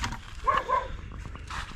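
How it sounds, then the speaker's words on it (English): A farm dog named Lucifer barks twice in quick succession from a short distance away, followed by quieter scattered outdoor sounds. "Lucifer's in there barking."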